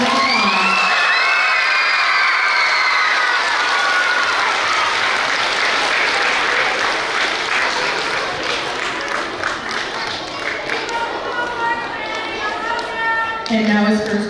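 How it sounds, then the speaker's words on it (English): An elementary school assembly audience claps for student award winners, loud sustained applause with children shouting, cheering and whooping over it, tapering slightly before a final swell of voices. "Let's give them a big round of applause."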